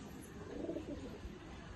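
A pet fancy pigeon from a breeder's loft gives a short, faint, low coo against quiet background noise.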